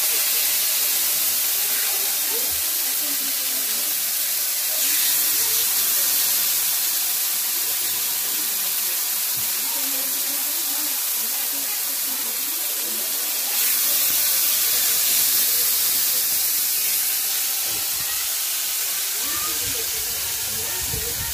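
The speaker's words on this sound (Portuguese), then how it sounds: "Vou selar ela aqui, fritar ela, né?" Beef brisket steak sears on a hot iron disc griddle, producing a loud, continuous hissing sizzle that swells slightly at moments, with someone talking faintly underneath.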